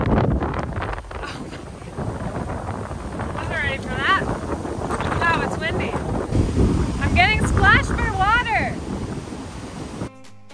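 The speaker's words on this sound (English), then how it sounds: "Wow, it's windy." Strong wind buffets the microphone in a constant roar, with bird-like chirps or whistles rising and falling over it.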